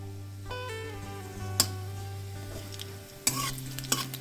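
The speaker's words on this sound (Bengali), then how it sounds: "জিরে, শুকনো লঙ্কা, তেজপাতা ফোড়ন দিয়ে দিলাম।" Cumin seeds, dried chilli and bay leaf crackle in hot oil in a wok, a steady close sizzle broken by a few sharp pops and small clinks.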